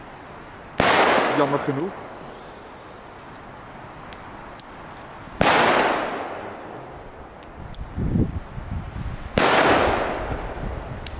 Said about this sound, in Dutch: jullie horen wel op beeld dat het echt kwaliteit vuurwerk is